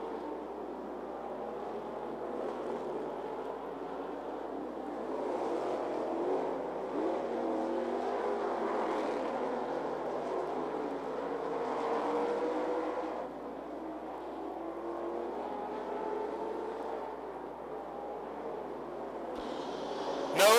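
Street stock race cars lap 411 Motor Speedway, a continuous distant roar of engines that swells and fades as the pack passes, with a sharp burst right at the end.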